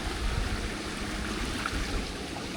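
Steady broadband rush of the Béana waterfall, a small cascade in Australia, pouring into a pool during a swim, close and continuous without any voices.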